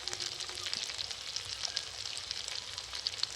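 Turmeric, salt and chili powder fry in oil in a pan as they are stirred for a Bengali egg curry, giving a steady, close, faint sizzle with light scraping of the spoon and no talking.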